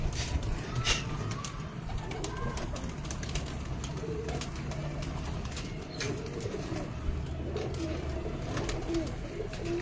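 White golden pigeons cooing softly, low repeated coos in a steady murmur, with occasional sharp taps and rustles of the birds moving nearby.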